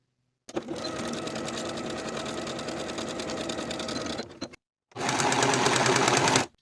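A sewing machine stitches a seam on a denim skirt, running in a fast, steady burst for about four seconds, then pausing briefly before a second short run, close and loud.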